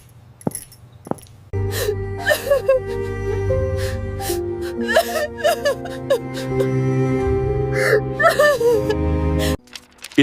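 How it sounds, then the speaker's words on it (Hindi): A woman cries in her room with gasping sobs, whimpers and shaky wailing breaths that rise and fall in uneven bursts, close and fairly loud, with a low steady tone underneath. "इस वक्त बहू के कमरे से रोने की आवाज आ रही है"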